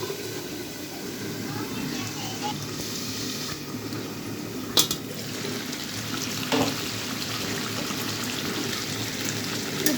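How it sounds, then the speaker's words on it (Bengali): Pangas fish and ridge gourd cooking in a covered pan give off a steady, soft sizzling hiss with a couple of faint clinks, gentle and continuous throughout. "আমি আর একটু এভাবে আর 2 মিনিট কষিয়ে নেব ভালো করে।"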